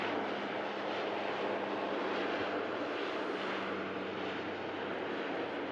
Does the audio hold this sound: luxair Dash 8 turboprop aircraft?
yes